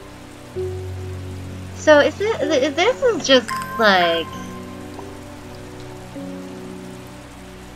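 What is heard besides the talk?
rain falling in the video game Strange Horticulture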